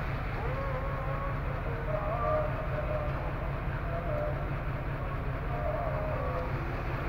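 Jaffar Express and Hazara Express trains cross at Kala Gujran railway station, heard as a loud, continuous rumble of rolling wheels and carriages throughout.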